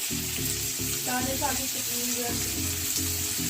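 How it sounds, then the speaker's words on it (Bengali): Onions frying in a pan with salt for an egg tadka, a soft steady sizzle running under a woman's speech close by. "দিয়ে পেঁয়াজটা ভালো করে ভাজা হবে"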